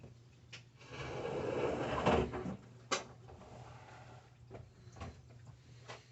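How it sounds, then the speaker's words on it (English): An indoor door is shut in a home with a dull thud near the middle, followed by a sharper latch click, while a low steady hum runs underneath and faint distant knocks trail after. "let me shut my door."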